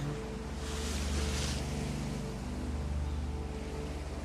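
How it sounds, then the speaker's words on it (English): Ocean waves meeting the shoreline below cliffs, a steady, broad wash of surf with a low rumbling undertone that swells gently and never breaks into distinct crashes, continuous and moderately loud. "Waves meeting the shoreline below"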